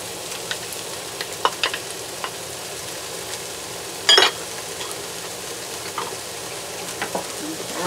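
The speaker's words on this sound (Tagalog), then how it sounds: "Lalagay na natin ang ating ampalaya." Bitter gourd (ampalaya) dropped into a pan of sizzling onions for beef ampalaya guisado: steady frying hiss with scattered spoon clicks and a brief louder scrape or splash near the middle.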